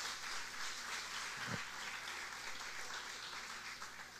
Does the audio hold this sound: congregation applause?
yes